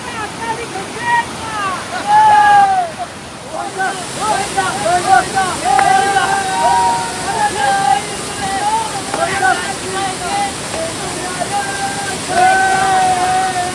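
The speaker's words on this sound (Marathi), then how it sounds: "आपण मुख्य धबधब्याच्या इथे आलेलो आहोत हा जो फ्लो पडतो तो मुख्य धबधब्याचा आहे" Loud, constant roar of the main fall of Bheli waterfall close by, with people talking over it throughout.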